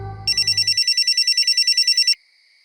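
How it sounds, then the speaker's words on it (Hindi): Telephone ringing with a rapid electronic trill that pulses for about two seconds, loud and close, after a brief low background sound cuts off, then stops abruptly. "हाँ हाँ शुक्ला जी बोलिए, हम आप ही के फोन का इंतजार कर रहे थे।"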